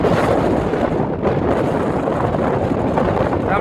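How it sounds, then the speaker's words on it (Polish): Strong wind blasts across an open field, roaring as continuous loud buffeting against the microphone for the whole stretch, with no talking. "Strasznie wieje."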